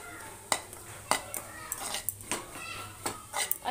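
Gram flour mixture being roasted and stirred in a pan, a spoon scraping and clinking against the metal in irregular sharp knocks with light sizzle between, close and alone without talk.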